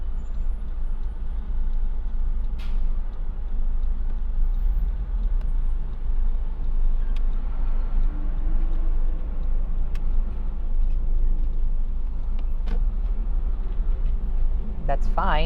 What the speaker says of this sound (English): huge traffic